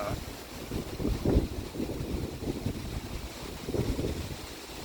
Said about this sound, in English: It's very windy today. I don't know if you're gonna really be able to hear me